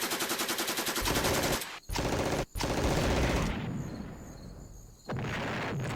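Artillery fire in the wargame Panzer Campaigns France 40, a loud continuous rattle of rapid shots broken by two short gaps, then a quieter rumbling stretch before the dense firing returns.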